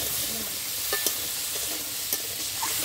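Crab frying in hot mustard oil with salt and turmeric in a kadai, a steady close sizzle with a few soft stirring clinks, no voices.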